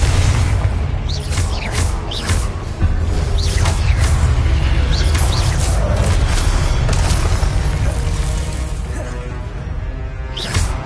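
Spell blasts from the Confringo fire curse in the Hogwarts Legacy video game, a continuous dense rumble of booming explosions and crackling bursts layered with whooshes, loud and sustained throughout.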